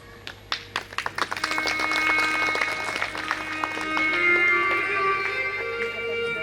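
An audience at a Bhagwat Katha religious discourse breaks into clapping: a few separate claps first, then a fuller, sustained round of applause with a low hum beneath.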